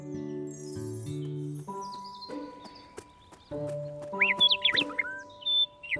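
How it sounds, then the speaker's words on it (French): A cartoon bird sings in a tree, bright chirping trills and short whistled phrases that arrive in quick bursts over sustained musical tones in a playful animated scene. "Un oiseau chante gaiement dans un arbre."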